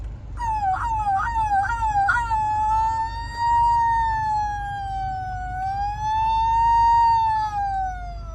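An ambulance siren wails loudly nearby, opening with a few quick rising yelps before settling into a long, slowly wavering tone.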